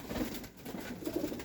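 Pigeons coo softly, a few low, throaty calls rising and falling close by and faint against a quiet background.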